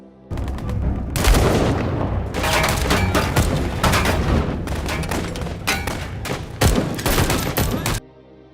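Rapid bursts of gunfire crack loudly and close, volleys repeating for several seconds with brief gaps before cutting off.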